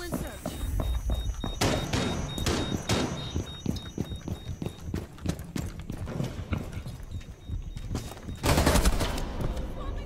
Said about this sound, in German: Schuss weiter von Mira.